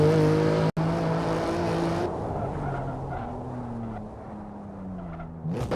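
A BMW M2 sports car accelerates hard down a track straight, its engine note climbing loud and close, with a quick gear change early on before the revs build again toward a brief tyre scrub at the end.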